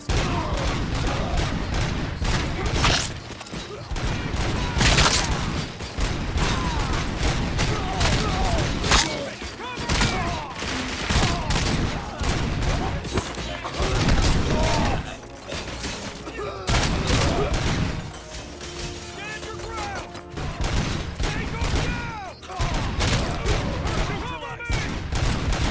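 Dense, continuous gunfire from RoboCop: Rogue City, the shooter game, with rapid automatic bursts, booms and thuds packed loudly together for the whole stretch, with only brief lulls.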